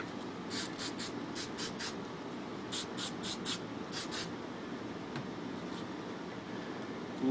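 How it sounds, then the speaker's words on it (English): A spray can gives several quick short bursts onto dry parts of a small Briggs and Stratton 2HP engine during disassembly. The hisses come in two clusters of rapid puffs over a quiet workshop background, and no one speaks. "I'm going to actually give these a quick spray too because they're a bit dry from sitting."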